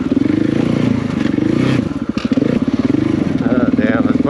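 Heavy, loaded adventure motorcycle rolling downhill on a rough solo trail ride, its engine a steady close rumble with clattering and scraping bursts, while the rider mutters over it.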